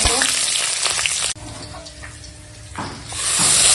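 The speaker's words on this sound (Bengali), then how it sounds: "ফোড়নটা একটু ভেজে নেবো।" Panch phoron whole spices, green chili and bay leaf sizzle loudly in hot oil left from frying bori, a dense crackling hiss that dips abruptly partway through, then swells back up to a bright, strong sizzle.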